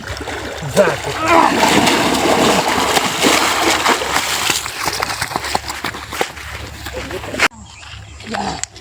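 Water splashes loudly and continuously outdoors during a comic race, with shouting voices over it before it cuts to a quieter ending.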